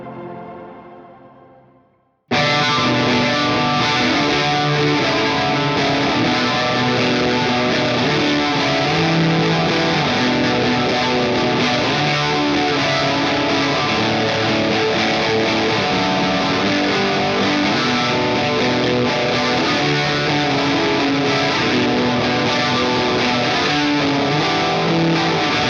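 A heavily distorted, dirty guitar tone through an effects pedal plays loudly and continuously after a brief quieter lead-in.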